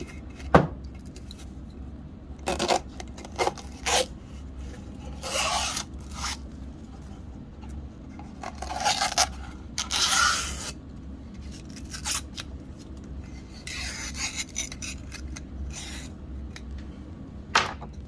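Cloth being scraped off an Ampico player piano pneumatic reservoir makes intermittent rasping, scratchy strokes in short bursts with pauses between, close up and fairly quiet.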